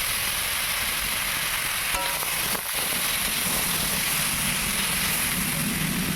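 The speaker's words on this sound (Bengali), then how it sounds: "সবজিটাকে খুব ভালো করে নেড়ে চেড়ে সমস্ত মশলার সাথে সবজিটাকে একটু মিশিয়ে নিচ্ছি" Vegetables stirred and fried with spices in a pan for a rustic potato and katla fish curry, producing a dense, continuous loud sizzle with a brief scrape partway through.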